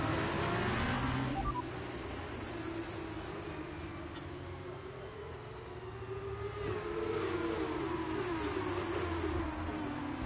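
An F1 race car engine in the F1 22 racing game holds a continuous high whine that rises and falls through gear changes, while lower road rumble runs underneath and no one speaks.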